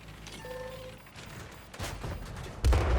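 Tank cannon shots in World of Tanks: sharp, booming blasts burst out in the second half of the game audio, the last one a heavy low-frequency thud.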